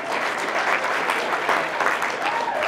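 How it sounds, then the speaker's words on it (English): Steady applause from a crowd at a startup pitch competition final, dense clapping that stays even and fairly loud throughout with no voices standing out. "please stand up for a round of applause"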